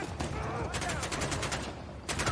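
Gunfire in the game My Time at Sandrock sounds as a dense volley of rapid shots, loudest in bursts near the middle and end, with background game noise and some voice underneath.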